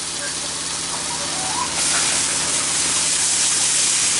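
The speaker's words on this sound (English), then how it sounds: "Hear that sizzle?" Beef, cauliflower and broccoli sizzle in a hot wok, a steady broadband hiss that swells louder halfway through and holds close and continuous with a faint low hum beneath.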